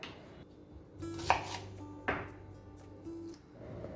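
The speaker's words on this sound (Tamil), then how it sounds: "2 வெங்காயத்துலேயும் அவுட்டர் மோஸ்ட் லேயர்ஸை மட்டும் டைஸஸாக கட் பண்ணி எடுத்து வச்சிடலாம்." A knife dices the outer layers of onions on a cutting board, making a few close, distinct knocks spaced out over a few seconds in a quiet kitchen.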